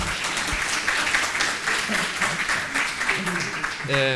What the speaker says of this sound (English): And to you, yes, you can applaud.